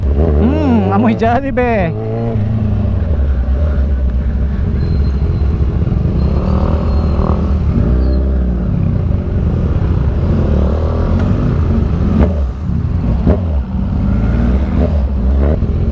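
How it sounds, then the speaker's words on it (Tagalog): Busy road traffic on Pandan Road, with cars and motorcycles rumbling and revving close by in a continuous drone, while a voice talks over it. "Ayan o, traffic talaga dito sa Pandan Road to."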